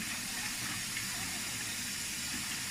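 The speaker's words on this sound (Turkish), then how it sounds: "Ana yıkamadan su alıyor." A Beko 9 kg washing machine takes in water during its test cycle, a steady hissing rush of inflow that holds constant from start to finish with no talk.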